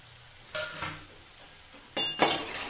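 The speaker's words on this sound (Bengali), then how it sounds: "এখন আমি এর মধ্যে একটু ধনে পাতা কুচি দিয়ে নাড়িয়ে চাড়িয়ে নামিয়ে নেব" Cauliflower curry with chopped coriander stirred in a pan: a few scraping spoon strokes against the metal over a faint simmer, with a louder pair of scrapes and clinks toward the end.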